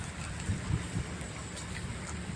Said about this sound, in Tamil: அடுப்பை சிம்மிலேயே வச்சுட்டு நல்லா வந்து வதக்கி விடுங்க